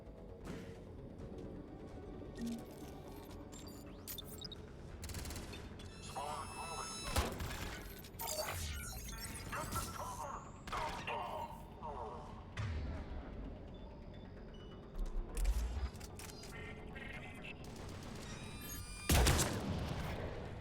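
Sniper rifle shots in Mass Effect 3, a few sharp loud cracks and thuds scattered through a busy combat soundscape, with a voice talking over much of it.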